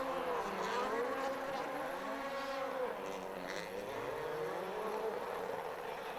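Rally cars spin donuts on the Monza circuit. Engine notes rise and fall in sweeping, wavering whines at a moderate distance over a constant roar.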